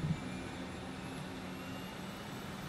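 The spaceship engine in Outer Worlds hums in a steady, low, jet-like drone as it powers up, sounding as though it is about to take off. The roar is faint and constant, with no voices.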